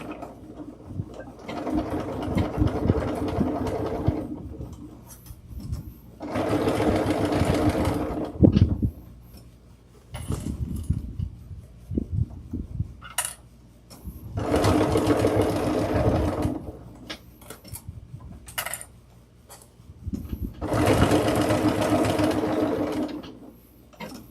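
A sewing machine runs an eighth-inch seam across a canvas tote bag in four long, steady bursts separated by quiet pauses with small handling clicks, heard up close.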